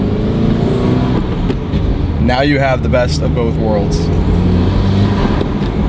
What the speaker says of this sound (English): You can have this quiet daylight exhaust, still get all of the turbo whistle, all of the intake noises.